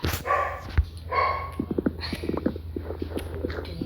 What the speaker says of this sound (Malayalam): ഇനി പട്ടിയൊന്ന് കുരയ്ക്കണെന്തിനാ?